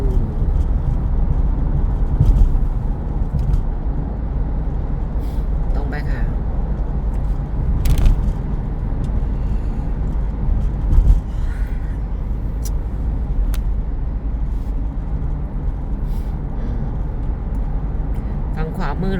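Heavy Bangkok evening road traffic crowded with trucks, a constant engine rumble with occasional hissing air-brake bursts and louder passing vehicles, while someone talks over it.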